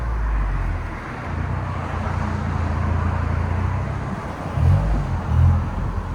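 A 2023 Toyota GR Corolla Circuit Edition, all-wheel drive with a 3-cylinder turbo engine and a resonator delete, drones as a steady, loud engine and road noise, with a couple of brief swells near the end.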